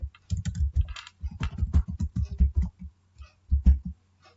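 Keys tapped on a computer keyboard while typing capital letters in MS Word with caps lock on, a close, steady run of clicks in short bursts with brief pauses.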